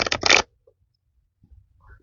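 A quick burst of tarot cards being riffled and shuffled up close, followed by near silence and faint rustling.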